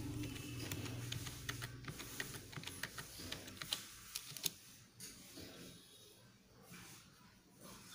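Sudo password typed on a computer keyboard beside an Orange Pi PC running Ubuntu 16.04, giving a run of close, quick, irregular key clicks over a low hum, thinning out toward the end.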